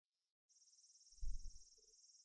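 A cicada drones in a steady, loud, high-pitched buzz in an anime scene from Steins;Gate, with a brief quieter chirp first and a low thump beneath it.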